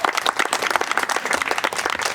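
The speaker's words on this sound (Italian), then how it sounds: "Credo che meriti un grandissimo applauso." An audience applauding at a live event: dense, steady clapping from many hands at close range, with no speech on top.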